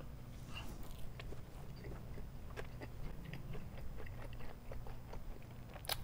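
Quiet, close chewing of a stewed, broken-up beef taco, with soft irregular bites and crunches over a low steady background hum.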